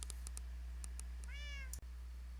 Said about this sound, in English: Purr Baby 1 was the name selected for this cat